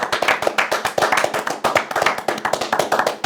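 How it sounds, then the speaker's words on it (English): Crowd at a Philly battle rap event clapping for Eazy the block captain, a dense run of close, sharp hand claps that stays steady for the whole stretch with no talk over it. "Clap it up for Eazy, the block captain, man."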